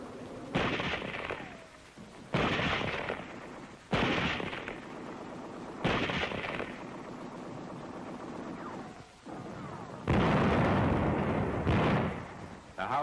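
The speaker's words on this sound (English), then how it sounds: "The house is shelled at point-blank range." Artillery shells a house at point-blank range in a wartime newsreel from Oberhoffen, with an M4 tank present: several loud, booming blasts recur at irregular intervals, each with a rough decaying tail, amid steady background noise.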